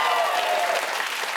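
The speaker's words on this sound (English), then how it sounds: "give yourselves a round of applause" A late-night show audience applauds in a steady, fairly soft wash of clapping that fills the short moment without a break.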